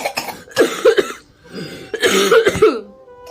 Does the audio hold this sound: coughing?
yes